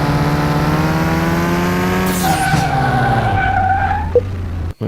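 Mini car in Car Mechanic Simulator 2021 brakes hard, its engine tone dropping as tyres screech into a sustained skid, then settling to a low idle.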